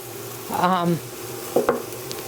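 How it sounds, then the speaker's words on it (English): Grass-fed 95.5 ground beef browning in a skillet, a soft sizzle with a short burst of spoon scraping and stirring early on and a couple of sharp clinks later, fairly close and with no talking. "it's as simple as just browning this ground beef"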